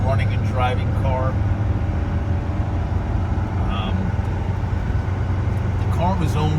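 A steady low engine hum from a smooth-running 1975 Mercedes-Benz 300D on the move, constant throughout, with a few short higher-pitched sounds above it.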